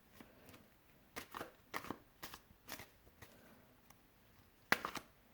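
Rider-Waite tarot deck being shuffled by hand, a run of soft riffling card bursts in an uneven rhythm, close and fairly quiet, ending with a sharper snap of cards, no talking.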